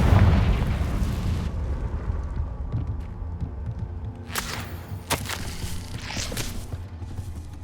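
A Confringo fire spell bursts in Hogwarts Legacy, a heavy booming blast at the start trailing into rumble, followed by several sharp crackling bursts of magic midway through, all loud against a continuous low background.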